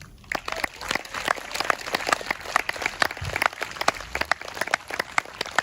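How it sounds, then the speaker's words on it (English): A round of applause at an outdoor concert, a modest crowd clapping in scattered, distinct claps that stay close and fairly steady throughout. "Can you give him a round of applause also?"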